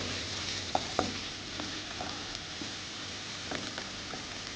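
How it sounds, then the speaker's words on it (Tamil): Onions sautéing to golden brown in a pan for mutton gosht give a steady, soft sizzle throughout, broken by a few sharp clicks of a stirring utensil, with no voices. "வெங்காயம் வந்து பொன்னிறமாக வதக்கணும்"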